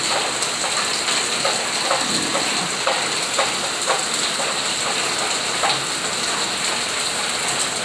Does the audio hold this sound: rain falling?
yes